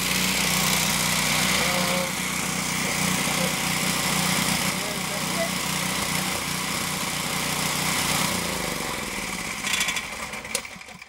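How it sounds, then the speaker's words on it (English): Small Briggs and Stratton engine running steadily and loudly throughout, a continuous buzzing drone with a slight change in tone near the end. "And then to start the engine, we'll just push that little red switch."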